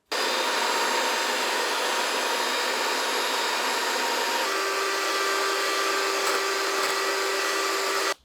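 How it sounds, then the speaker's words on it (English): A hand mixer beats egg whites to stiff peaks, giving a steady, loud, close motor whir that holds without pause for the whole stretch, with no voices. "So I'm beating the egg whites to a stiff peak with my hand mixer."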